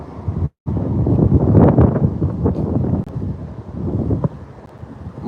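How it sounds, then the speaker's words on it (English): Strong wind gusts buffet an outdoor microphone near a roadway, a loud, steady rumbling roar that fills the whole clip, cutting out for a moment before swelling again. "damn, it's windy."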